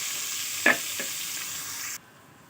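Onion fries in two spoons of hot oil in a pressure cooker on a stove. A loud, steady sizzle is broken by a brief stir or clink, and then it cuts off abruptly.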